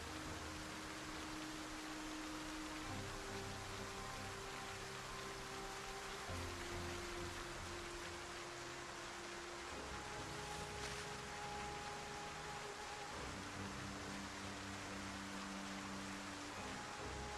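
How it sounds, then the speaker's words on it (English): Steady rain in the zombie survival game Project Zomboid, a constant hiss of rainfall without pauses, with low droning background tones underneath and no talking. "while it's raining."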